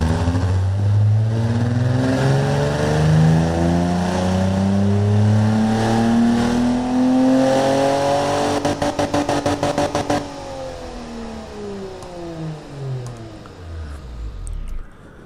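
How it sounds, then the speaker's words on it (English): A car engine in the Automation game revs under a benchmark test, climbing through repeated rising sweeps like gear changes, then a rapid stuttering rev-limiter pulse and a falling, winding-down tone, loud and close. "Let it benchmark the engine."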